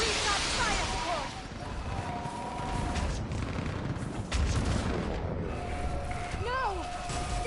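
In the Mass Effect 3 game, fire support artillery and gunfire boom and crackle in rapid bursts beneath shouted voices and sweeping whistles, with loud impacts rumbling through the battle.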